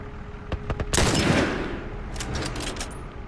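Video game gunfire from The Last of Us: a few sharp single shots followed by a loud, sustained burst of rapid fire that tapers into scattered reports and rumble.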